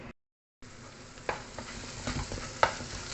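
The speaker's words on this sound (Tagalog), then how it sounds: "Itong ginisa kong mga mixed onions." Mixed onions sauté in a hot pan with a steady close sizzle, broken by a few sharp stirring scrapes and clinks after a brief silent gap at the start.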